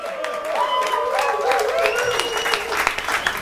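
Applause for the wine queen at a wine festival, with clapping from the crowd over a held brass-like musical tone from the band, moderately loud and close for a few seconds.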